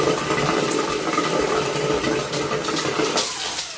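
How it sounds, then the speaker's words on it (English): Tap water runs steadily into a bathroom sink as a child washes hands after brushing teeth, a continuous close splashing wash with no talking. "Wash your hands."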